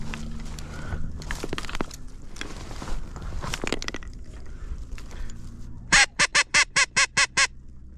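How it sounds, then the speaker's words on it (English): Teal ducks on a small island give a rapid run of about eight sharp, loud quacks near the end, after rustling, footstep-like shuffling and scattered knocks close by. "Teal birds."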